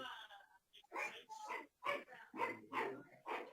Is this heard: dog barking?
yes